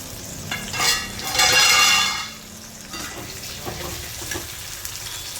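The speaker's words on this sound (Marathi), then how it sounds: "पाच मिनिटं छान आहे असं परतून घ्यायचं आहे." Capsicum and tomatoes being sautéed in a pan for besan bhindi, with a brief burst of sizzling and stirring swelling in the middle, then quieter scraping and clinks.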